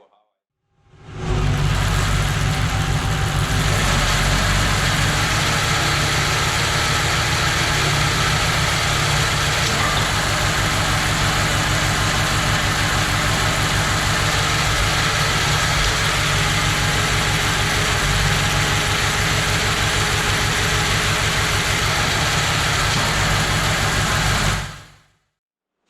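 A small engine of about 25 horsepower runs to power a winch. It drones steadily and loudly at a constant idle-like pitch for the whole stretch, with no speech.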